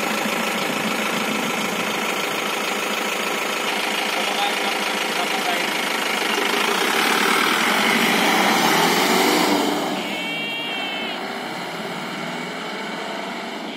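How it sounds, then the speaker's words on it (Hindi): A modified jeep engine runs loudly with a steady, rough idle. It swells briefly before settling back to a lower idle, with some background voices underneath. "आपको स्टार्टिंग करके दिखाता हूँ इसकी स्टार्टिंग कैसी है।"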